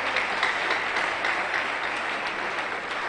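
Sustained applause from an audience at a public event honouring a deputy governor, a dense steady wash of many hands clapping that fills the whole stretch without letting up.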